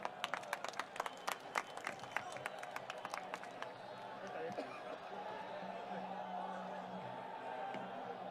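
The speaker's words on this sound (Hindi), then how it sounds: "जोरदार तालियों के साथ स्वागत करें।" A political rally crowd in Gujarat, welcoming Arvind Kejriwal, breaks into scattered, fairly distant hand clapping that fades into a steady murmur of crowd noise.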